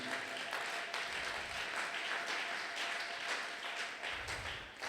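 A church congregation at a Sunday thanksgiving and praise service applauds and cheers steadily. The clapping is a dense, even wash of sound from start to finish, with no pauses.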